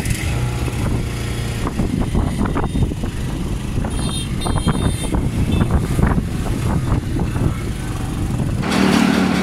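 A Bajaj Pulsar 150 motorcycle engine runs at idle outdoors, a steady low rumble close to the microphone, partly masked by gusting wind noise, with a brief rise in level near the end.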